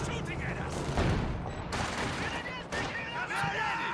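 Heavy DShK machine gun fire in a Company of Heroes 2 battle, dense bursts of gunfire and explosions rumbling steadily, loud and continuous, with a voice talking over the combat.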